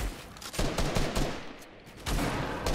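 Gunfire in the Fortnite video game, with dense bursts of rapid shots and loud cracks that swell and fade in waves before a fresh volley near the end; no voices.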